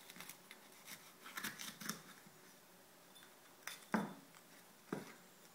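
A knife or scissors cuts the stem off a dried red chili pepper in a Thai home kitchen, giving a few soft, close snips and clicks with quiet gaps between them.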